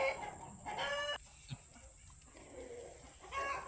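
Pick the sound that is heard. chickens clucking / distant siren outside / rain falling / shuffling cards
chickens clucking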